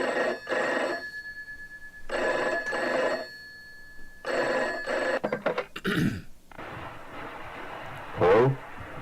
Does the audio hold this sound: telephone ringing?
yes